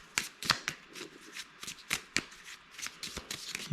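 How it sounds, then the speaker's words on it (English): A deck of playing cards for a Battle of Britain 1940 board game is shuffled up close, with quick riffling bursts and soft slaps repeating for several seconds, no voices. "Get them a quick shuffle."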